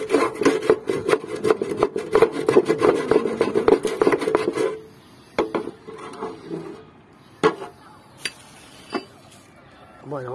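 Rust being scraped by hand off a small portable metal grill: rapid, gritty rasping strokes for several seconds, then scattered scrapes and knocks, with someone speaking briefly.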